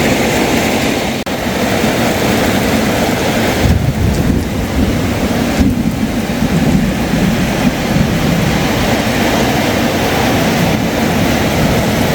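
Heavy rain pouring in Thailand in a loud, constant roar, with deep low rumbling running underneath throughout.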